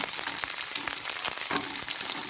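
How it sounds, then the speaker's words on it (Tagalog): Onion, garlic and spices sauteing in a pan for a cabbage stir fry, a loud, dense and steady crackling sizzle that runs without a break. "we saute the onion, garlic, and the rest of the spicy"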